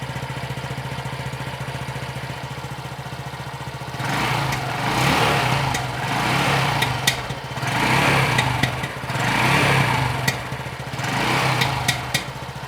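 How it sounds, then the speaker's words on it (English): A cold Honda Dax 125cc on its stock exhaust idles steadily, then takes several light throttle blips that rise and fall in even waves, close and moderately loud. "I'll show you real quick what the standard exhaust sounds like."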